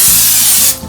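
Cooking spray hisses onto a preheating pan over medium-high heat in one close, steady burst just under a second long, then cuts off abruptly.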